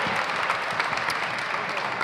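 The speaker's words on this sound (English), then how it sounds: "give him a round of applause" A live audience gives a round of applause for a guest at a talk show event, a dense, loud, even roar of clapping filling the whole short stretch.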